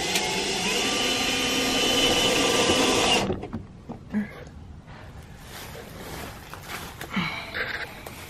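A power drill drives screws into a wooden chicken coop hatch, giving a loud, steady whirring drone for about three seconds before cutting off, followed by faint scattered knocks and handling sounds.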